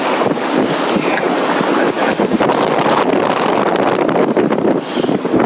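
A sailboat moves under sail during a February sailing lesson, with loud, continuous wind buffeting the microphone over rushing water and hull noise, steady throughout with no voices.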